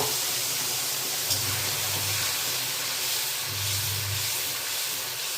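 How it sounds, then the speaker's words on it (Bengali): Spices sizzling in hot oil in a wok, a steady broadband hiss that holds at an even loudness throughout, with faint low rumbling underneath. "কড়াইতে তেল দিয়ে দিছি, তেলটা কিন্তু গরম হয়ে গেছে। মশলা দিয়ে দেব।"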